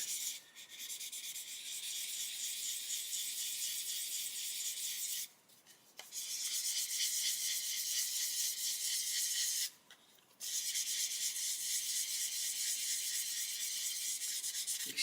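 Steady abrasive rubbing of sandpaper along the trailing edge of a 1/35 Border Model Ju87 G1/2 Stuka plastic kit, close and continuous in two long strokes broken by brief pauses.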